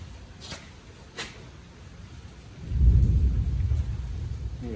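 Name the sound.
thunder outside during a storm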